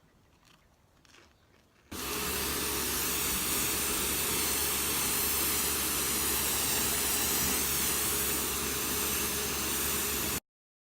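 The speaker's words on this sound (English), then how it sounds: "while I've got the pressure washer out and I've done the shed, I might as well do the fence ready for painting it." A pressure washer cleaning a garden fence ready for painting: after a quiet start, a steady, loud, close hissing spray kicks in and runs unbroken for about eight seconds before cutting off abruptly.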